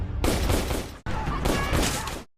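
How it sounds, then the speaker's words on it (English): Loud gunfire from an assassin's attack in a film scene comes in two dense, sustained bursts with a brief cut between them, then stops abruptly. "Soon, another assassin tries to shoot Ella."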